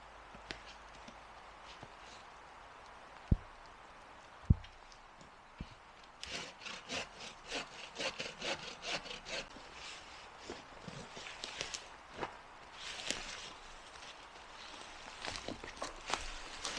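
Hand saw cutting firewood outdoors at a winter overnight camp, with rhythmic back-and-forth rasping strokes that start after a few sharp knocks; close, moderately loud and alone.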